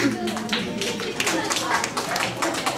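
An audience at a birthday celebration magic show claps in a dense, steady patter for a few seconds, with voices mixed in.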